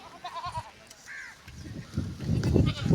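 Sheep on a sheep farm bleat in short wavering cries early on, followed by louder rustling and shuffling noises of the flock close by.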